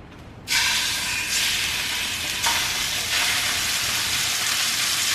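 Chicken pieces frying in olive oil in a pan, a loud, steady, close sizzle that jumps up as the meat hits the oil and continues unbroken, with no one talking.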